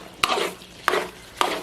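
Jaffna thothal being stirred in a pot over a wood fire, three sharp scraping strokes in an even rhythm, each followed by a short thick sticky smear, close and fairly loud.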